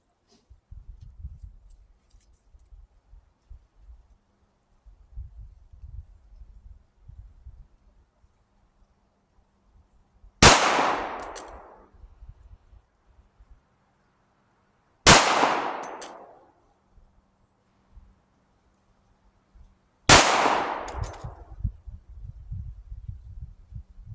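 Three sharp pistol shots from a Tisas Stakeout chambered in 9mm and .38 Super ring out at an outdoor range, evenly spaced about five seconds apart, each loud with a ringing decay, over low rumbling handling noise.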